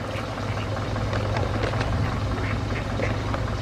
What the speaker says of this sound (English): Oh, there's some ducks.